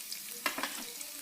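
Capsicum, carrot and beans sautéing in hot oil, a quiet hiss with a couple of brief stirring clatters, no voices.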